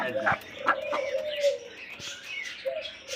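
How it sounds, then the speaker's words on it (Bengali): A pair of Australian almond doves coo in soft, repeated low calls at close range amid faint chirps from other birds at a pigeon and poultry sale, with someone talking over them. "দেখতে পাচ্ছেন চমৎকার আরও একজোড়া অস্ট্রেলিয়ান ঘুঘু অ্যালমন্ড"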